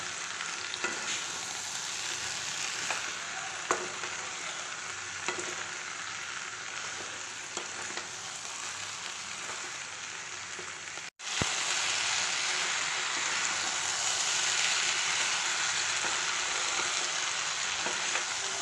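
Fried bitter gourd stirred into vegetables in a pan for shukto, with a steady broadband sizzle and scraping stirs throughout, briefly cutting out before the frying hiss returns louder and fuller.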